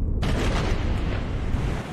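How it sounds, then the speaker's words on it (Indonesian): A storm at sea roars as a dense, continuous rumbling wash of wind and crashing waves, loud and close, with no distinct separate thunderclap. "Kamu berenang naik dan segera tahu kalau itu suara badai."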